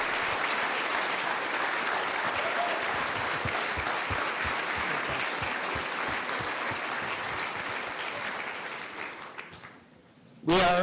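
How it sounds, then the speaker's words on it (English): An audience at a community town hall on adverse childhood experiences gives loud, sustained applause that runs for about ten seconds, then quickly fades out before a brief loud sound at the very end. "let's give a round of applause for Dr. Nadine Burke-Harris"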